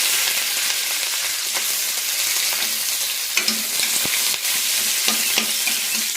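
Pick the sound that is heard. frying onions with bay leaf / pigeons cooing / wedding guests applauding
frying onions with bay leaf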